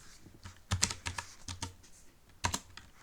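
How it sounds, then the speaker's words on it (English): Bursts of typing on a computer keyboard, with irregular clusters of close, crisp key clicks and short pauses in between, with no voice. "I'll just type it out."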